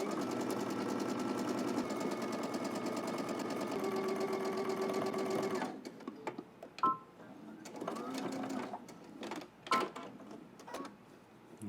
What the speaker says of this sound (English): we're going to stitch all the way around the neckline using 3/8 of an inch seam allowance